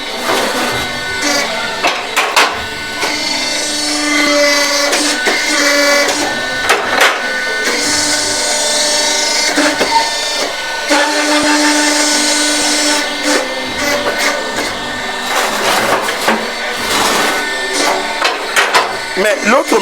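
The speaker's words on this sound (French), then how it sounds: "Là, on est sur la machine électrique." An electric brick-making machine runs loud and close with a steady mechanical whine and grinding hum, broken by knocks and clatter as it works.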